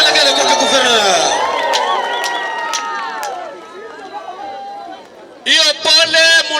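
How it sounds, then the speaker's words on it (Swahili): A large crowd at an outdoor gathering with the governor bursts into high, wavering ululation and cheers that fade, then swell again in a loud burst near the end; voices chatter throughout. "Shangwe na vigelegele kwa gavana."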